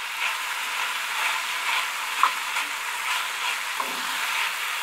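Ground onion cooks in a pan with a steady, hissing sizzle, close and even throughout, with a couple of faint clicks and no talking.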